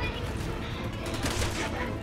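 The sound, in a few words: gunfire in video game Resident Evil 6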